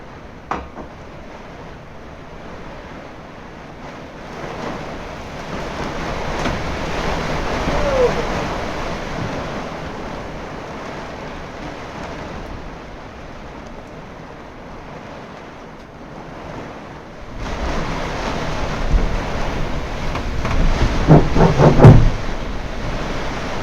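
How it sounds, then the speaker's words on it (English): Storm wind and rain batter a leaking boat during a possible tornado, a continuous roaring rush that swells louder toward the end with occasional knocks and gusts, close to the microphone. "I think this is a tornado."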